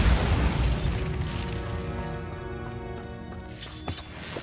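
Bombarda spell from the Hogwarts Legacy video game: a deep booming blast with a rumbling, ringing tail that fades, followed by a small pop near the end.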